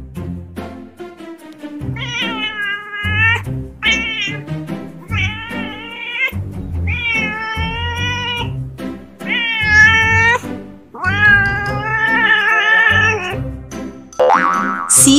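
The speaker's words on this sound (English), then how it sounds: "C for cat." A cat meows loudly and close by, giving about six drawn-out, wavering calls in quick succession with brief gaps between them, and no voices are heard.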